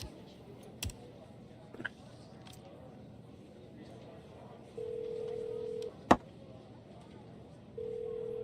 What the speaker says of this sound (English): Come on, Catherine, answer the friggin' phone.